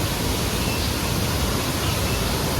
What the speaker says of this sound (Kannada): ಸೊ ನೋಡಿ ಇದು ಫಾಲ್ಸ್